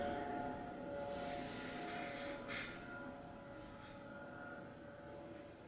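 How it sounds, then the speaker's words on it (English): A helicopter circles over a residential neighborhood, its engine and rotor noise a steady, distant, faint drone throughout with no talk. "a helicopter circling our neighborhood"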